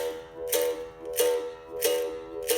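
A capoeira berimbau playing the dim pattern, shifting from an open buzzing press to a closed one, with four evenly spaced bright buzzy strikes each followed by a ringing tone, close and clear with no talking.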